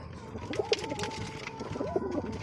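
Pet pigeons feeding with two low soft coos close by, set over a steady background hiss and light rustling and pecking sounds.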